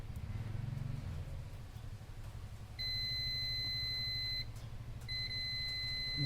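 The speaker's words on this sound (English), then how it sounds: "buzzer is starting" Buzzer of a tester used to repair a Chinese welding machine gives a steady, high electronic beep that holds for almost two seconds, breaks off briefly, then starts again over a low background hum.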